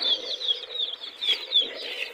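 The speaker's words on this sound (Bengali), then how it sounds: "এই যে আমার দেশি মুরগির বাচ্চা" Desi chicken chicks about seventeen days old chirp in a cluster at feeding time, with repeated high peeps and soft rustling, close and without talk.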